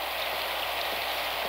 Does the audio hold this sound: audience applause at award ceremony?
no